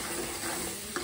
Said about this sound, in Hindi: और ये मसाला भुन रहा है बस।